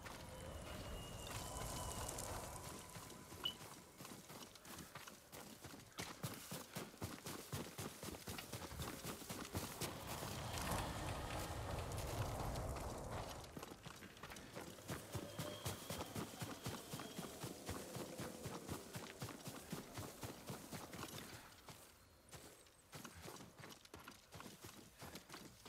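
Horse hooves clop in a fast, steady rhythm in the Ghost of Tsushima video game, a continuous galloping beat that runs nearly unbroken and close.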